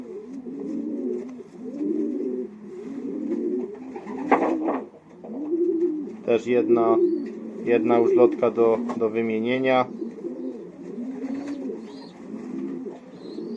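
Racing pigeons coo in a loft, soft rolling calls repeating throughout at close range while someone talks over them in Polish.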